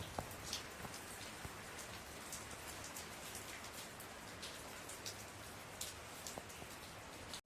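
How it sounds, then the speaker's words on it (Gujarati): Steady rain falling alone, with scattered sharp drops pattering on a surface over a soft continuous hiss. "અટાણે પાછું વરસાદી ચાલુ કરી દીધું"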